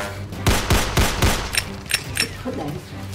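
A quick volley of loud gunshot sound effects in a comedy skit: four heavy, evenly spaced bangs followed by several sharper, lighter cracks, close and punchy with no words spoken.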